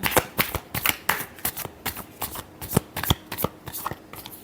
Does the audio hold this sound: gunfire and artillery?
no